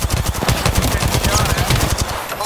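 Rapid automatic gunfire in the battle royale shooter Apex Legends, a fast steady burst of sharp close shots running almost without a break, with speech mixed in.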